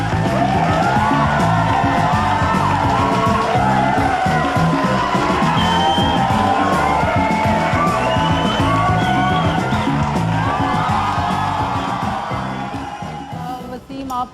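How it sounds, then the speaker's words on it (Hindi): Studio audience at a televised Eid special comedy show applauds and cheers, with dense, continuous clapping plus whoops and shouts that stay loud throughout before easing slightly near the end. "आप लोगों की भरपूर तालियां बुला रहा हूँ"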